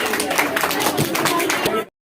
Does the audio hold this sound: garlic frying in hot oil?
no